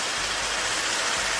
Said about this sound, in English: It's drizzling slightly